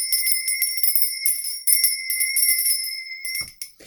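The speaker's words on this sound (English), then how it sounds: "But where is my bell?" A small hand bell rings in rapid, bright jingling bursts, loud and close, continuing for several seconds before tapering off with a few last shakes and no speech.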